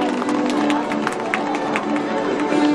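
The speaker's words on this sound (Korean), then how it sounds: "여러분 큰 박수로 맞아주시기 바랍니다" An audience at an acoustic guitar busking contest award ceremony claps and cheers steadily, a busy crowd wash with scattered voices throughout the short stretch.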